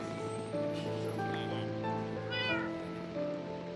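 A cat in a video game gives a short meow over continuous game music, mid-level and heard alone without talking.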